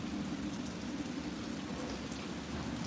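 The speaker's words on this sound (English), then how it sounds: "I'm out here enjoying the rain." Steady rain falls outdoors on a street, a continuous even patter close by with no voices.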